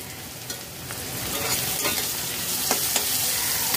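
Chopped onions and green chilies fry and sizzle in a pan over low to medium heat while being stirred, a steady close hiss with scraping and occasional clinks of the utensil, no voices.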